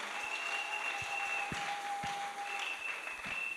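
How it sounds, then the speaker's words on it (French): A church audience applauds mothers with steady, dense clapping, and a few sharper close claps stand out against the crowd throughout. "qu'on peut applaudir pour nos mamans?"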